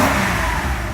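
A Mercedes 500E W124 engine, still cold, revs briefly when the throttle is floored and then bogs down; a short, loud, close burst of engine sound with no talking.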